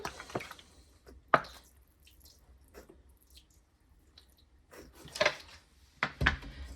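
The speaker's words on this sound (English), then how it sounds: "Just water it in." Scattered splashes and trickles of water poured onto soil of newly planted potted herbs, coming in short bursts with quiet gaps between.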